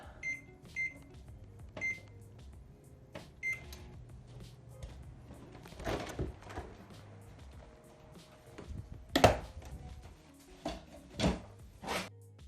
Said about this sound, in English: I don't know how to work with my microwave.